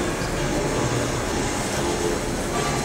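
A train rumbles steadily through a railway station, a dense, continuous low roar with broadband hiss that fills the whole stretch at a fairly close, even level, with no clear voices over it.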